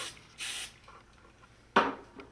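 Hairspray comes out in two short, hissing bursts from an aerosol can while a hairstyle is being set: one about a quarter second long, then a louder spray that quickly fades, close and alone.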